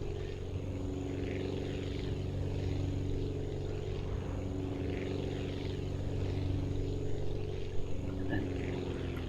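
Steady propeller aircraft engine drone from the Aviassembly flight game, a constant tonal hum with layered harmonics holding at even volume throughout, no voices.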